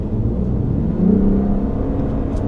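A Lexus RC 350 F Sport on a track holds a steady engine drone at high revs, a continuous rumbling whir heard from inside the car with a slight rise in pitch midway and no break.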